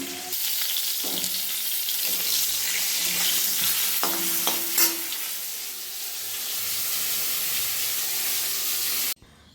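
Steady hissing sizzle of food frying in a pan, with occasional clinks and scrapes of stirring, close and continuous.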